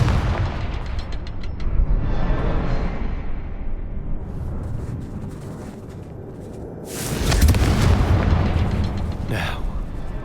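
A spell explosion in a Hogwarts video game: a sharp burst of booming blast noise erupts partway through, rising over continuous game ambience and fading into a trailing crackle.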